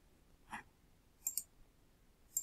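A computer mouse clicks sharply and close in a quiet room, one click, then a quick double click, then another single click near the end.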